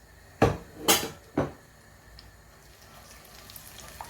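Garlic and ginger paste hitting hot oil in a pan with bay leaves, three sharp clattering bursts of pan and utensil followed by a soft, steady sizzle, close and with no talking.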